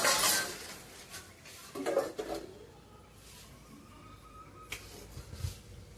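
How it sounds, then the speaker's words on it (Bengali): A spoon stirs katla fish curry with ridge gourd and potato as it simmers in a pot, giving a few faint, sparse clinks and scrapes against the pot amid quiet background noise. "একটু তরকারিটাকে নাড়াচাড়া করে নেব"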